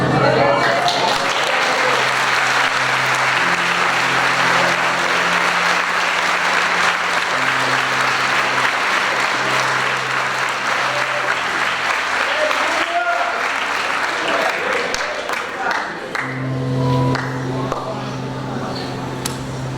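Applause from a church congregation during an Assemblies of God sermon, a steady loud wash of clapping lasting the whole stretch, with voices and some tonal music or singing underneath.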